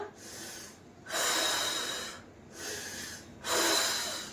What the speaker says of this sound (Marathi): इथे फक्त श्वास भरायचा